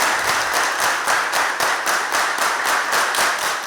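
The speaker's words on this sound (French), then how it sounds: "Tonnerre d'applaudissements." A crowd in Dogbo applauds to welcome the president, a dense, steady roar of many hands clapping with rhythmic surges, loud and continuous, with no voices.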